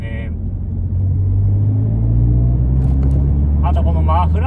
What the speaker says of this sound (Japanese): このマフラー音が気持ちいいですね。 なかなかいい音してます。